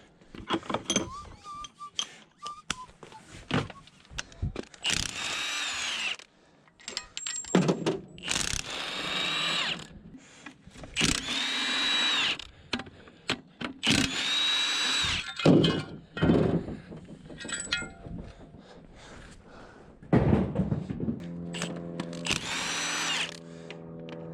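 Tool work on a vehicle transmission being disconnected, with repeated bursts of a whirring power driver or ratchet and clanks and knocks of metal between them, close and loud.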